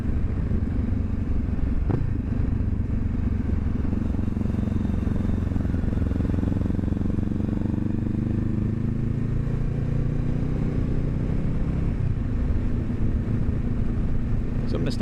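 Honda CB500F motorcycle cruising down a street at a steady throttle, its engine a constant low drone with rising pitch lines and wind rush, heard up close from the rider's position, with a brief clatter near the start.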